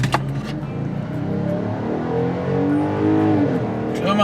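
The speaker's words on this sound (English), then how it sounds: "let's do a quick little 0 to 60 test on the 2019 Ram 1500 V6" A 2019 Ram 1500 V6 eTorque pickup with a 3.21 rear end and Pentastar engine pulls hard from a standstill to 60 mph, its loud, close engine note climbing steadily through the gears with brief shift dips.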